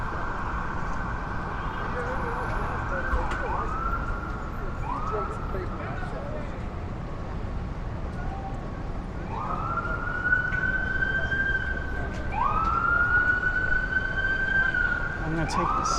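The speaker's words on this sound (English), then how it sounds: "I'm gonna take this siren." A wailing emergency vehicle siren rises and falls repeatedly in the distance, over steady traffic rumble and faint voices on 6th Avenue in New York City.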